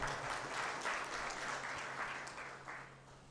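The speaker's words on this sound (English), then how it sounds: "Let's appreciate them with a clap." Sustained applause from a conference audience at a world science-park conference in Kenya, steady dense clapping that fades slightly toward the end, with no speech over it.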